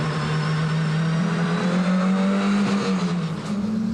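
Inside a Ferrari GT race car at Red Star Raceway during an MSA GTC National Series race, the engine drones loud and steady, its pitch climbing under acceleration with faint tyre noise.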